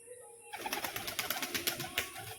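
A male tumbler pigeon makes rapid fluttering wing claps and soft coos close by, in a quick rhythmic burst that starts abruptly after a brief quiet.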